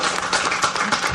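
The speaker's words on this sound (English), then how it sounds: "He'll leave to a round of applause and some handshakes." Applause and scattered clapping from a small poker tournament crowd as the first eliminated player leaves the table, a steady dense patter of hands close by with no talk over it.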